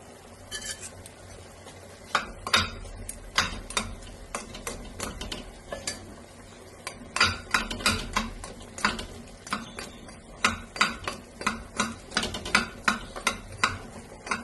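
Ginger-garlic paste fries in a pan for a mutton curry, with a soft sizzle under repeated metal-on-pan scrapes and taps from stirring that come in busy bursts.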